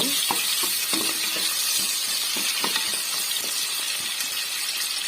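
Onions sizzle and hiss steadily in a hot pan with crushed ginger-garlic paste, close and continuous, with light scrapes and taps of a spoon stirring throughout.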